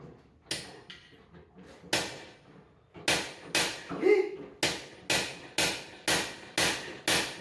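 Repeated sharp hammer taps on a tool to free a broken set screw that is stuck fast, about nine loud knocks in an uneven rhythm that becomes steadier toward the end, with brief voices between the first blows.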